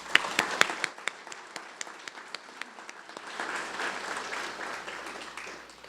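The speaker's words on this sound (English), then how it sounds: "Let's give them all a round of applause" An audience at a State of the City event in Rio Grande City applauds, beginning with a few loud, sharp individual claps that give way to fuller, denser clapping from the crowd, moderately close.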